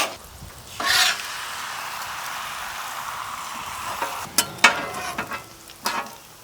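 Eggs fry on a flat-top breakfast griddle with a soft, steady sizzle, broken by a few louder scraping clatters of a spatula stirring and flipping, with no talking.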